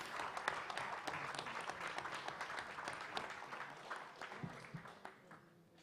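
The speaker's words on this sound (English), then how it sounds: "Give them a round of applause." A crowd applauds the fighters at a press conference in Madison Square Garden, a dense, fairly faint wash of clapping from a distance that holds steady and slowly thins out, with a little speech mixed in.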